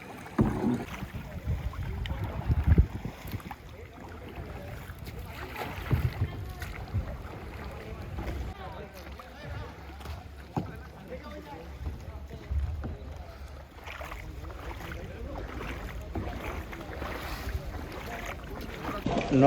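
A two-person kayak is paddled on the water at Cola Beach, Goa, with irregular splashing paddle strokes, gusts of wind buffeting the microphone and people talking over the outdoor wash.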